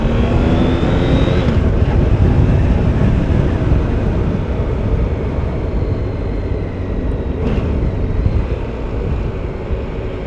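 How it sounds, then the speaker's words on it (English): A 2014 Honda VFR1200F motorcycle heard while riding, with a loud, continuous engine drone mixed with rushing wind that holds steady throughout. "I'll shut my face and you can just hear the bike. I'm on the VFR1200F. This is a 2014 model."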